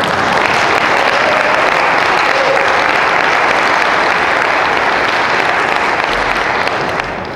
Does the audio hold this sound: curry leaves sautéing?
no